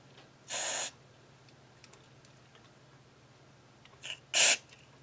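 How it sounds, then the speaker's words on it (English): Two short hissing bursts of electronic contact cleaner spray into a guitar's controls, one early and one near the end, with faint clicks and quiet background between them. "I take my electronic spray cleaner and we just run a dab of it in there."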